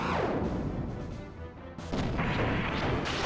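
A heavy cannon booms in the PlayStation role-playing game Xenogears, a loud broadband blast with a crashing second burst near the end, close and dense with no talk over it.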